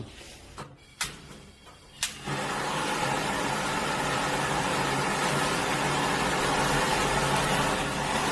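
Strong air blown across the flame of a commercial Hongtan kitchen burner makes a loud, steady roaring rush that starts after a few brief clicks and thumps and holds unbroken to the end, with no talk.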